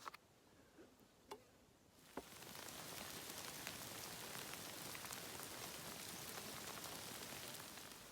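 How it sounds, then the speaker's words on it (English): Rain starts coming down on a Pacific Crest Trail hiking path between Mt. Shasta and Etna, a few isolated drops ticking before a steady, close patter sets in and continues evenly. "the rain held off as long as it could, and now it's coming down"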